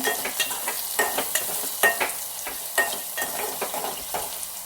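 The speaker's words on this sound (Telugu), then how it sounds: "ఆనియన్ తొందరగా వేగాలి అంటే కొంచెం సాల్ట్ వేసుకోవాలి." Onions frying with a pinch of salt in a pan for tomato curry, a steady close sizzle broken by repeated scrapes and stirs of a spoon, with no talking.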